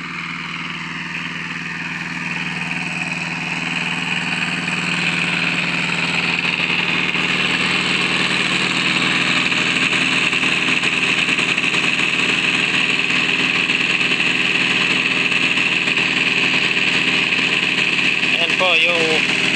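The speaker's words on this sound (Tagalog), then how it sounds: "Ito po, generator na diesel 220." A 220 diesel generator with electric starter runs on a farm water setup by a river, a loud steady mechanical drone with a constant hum that builds slightly and holds throughout, while someone talks over it.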